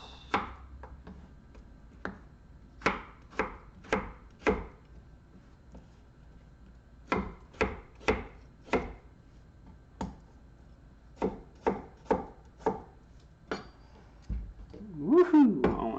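A knife chops a vegetable quartered lengthwise into half-inch strips on a board, with crisp close thuds in quick clusters of three to five and pauses between them. A brief voice comes in near the end.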